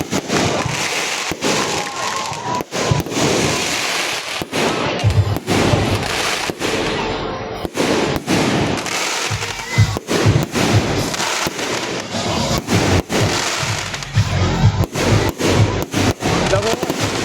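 A dense, continuous barrage of loud fireworks bangs and crackles at a Christmas lighting event in Indang, Cavite, close by, with sharp bursts every second or so and no pause throughout.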